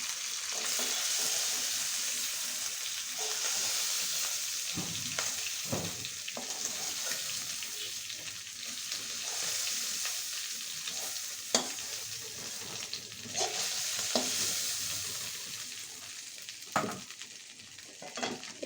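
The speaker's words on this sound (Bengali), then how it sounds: "কড়াইতে তেল দিয়ে নিয়েছি, এবার চিংড়ি মাছগুলো ভেজে নেব।" Prawns fry in oil in a wok, a loud continuous sizzle broken by scraping stirs and occasional sharp spatters, close up and with no voices.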